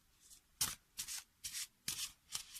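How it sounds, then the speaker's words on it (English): Large cartomancy cards are shuffled by hand in a quiet room, giving five soft, papery riffling bursts spaced roughly half a second apart, close and fairly faint, with no talking. "Big cards are kinda hard to shuffle."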